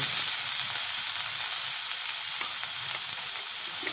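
Garlic and onion paste frying in a pan for a Bengali katla fish dum curry gives a steady, broadband sizzle that stays even and fairly loud for the whole stretch, with faint stirring scrapes and no talking.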